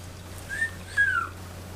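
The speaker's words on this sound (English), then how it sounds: "Perhaps when you lads whistle, you think we'll respond like this." A person whistles a few brief, rising and falling notes of a tune, apparently Rachmaninoff, close and fairly soft over a steady low hum, with no talking.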